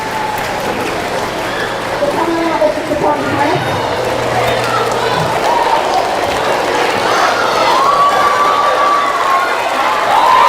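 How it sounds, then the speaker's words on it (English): A middle school audience of eighth graders at a school presentation breaks into loud, sustained applause and cheering that fills the room, while someone speaks over the crowd. "That deserves a round of applause"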